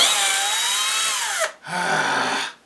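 A power drill drilling wood for a dog kennel whines at high speed, dips briefly as it slows, then revs again steadily before stopping; loud and close.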